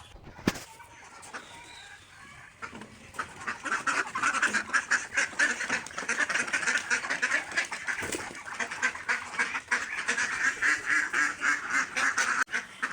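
A flock of ducks quacks loudly and nonstop, a dense, rapid chorus of overlapping calls that swells after a quieter start.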